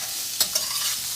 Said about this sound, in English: add your chopped onions, and you want them to saute until they're lightly golden.